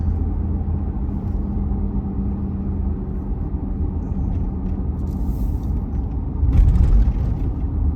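A 2021 Ford F-350 pickup with the 6.2L engine and 10-speed transmission pulling away out of a corner, a steady low engine rumble from inside the cab that swells briefly louder near the end.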